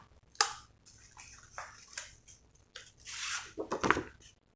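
Rice paper spring roll wrapper dipped briefly into water, close watery splashes and drips in short irregular bursts at a kitchen work surface, with no speech.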